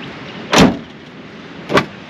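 The hard tonneau lid on a Ram 2500 pickup's bed being shut: two close, solid thuds about a second apart, the first louder and fuller, in an otherwise quiet setting.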